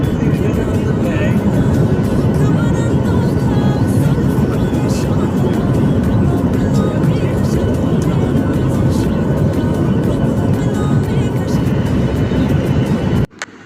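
Cabin noise from inside a Fly Dubai passenger jet in flight: a loud, steady broadband roar that holds unbroken throughout and cuts off abruptly at the end.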